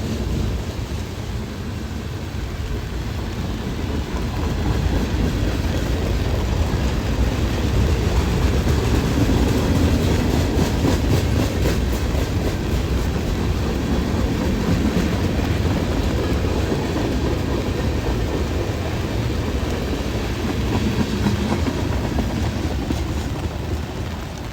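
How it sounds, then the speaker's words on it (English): A short train rolls past on rails, a continuous low rumble and clatter of wheels that stays loud and steady for over twenty seconds, rising slightly in the middle as it passes close. "Got a lot of short trains today."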